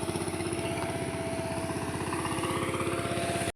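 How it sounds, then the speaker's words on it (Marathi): A tractor works a flooded, muddy field, its engine running steadily and loudly up close with a constant throbbing drone and rattling clatter throughout. "आता चिखल करत आहेत ट्रॅक्टरने."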